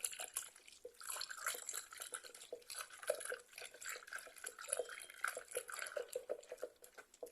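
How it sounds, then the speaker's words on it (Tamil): Light watery swishing and faint clinks as acid is stirred into water for homemade dish wash liquid, continuous and close, with no voices. "ஆசிட் சிலர் இந்த தண்ணியில் நல்லா மிக்ஸ் பண்ணிடுங்க"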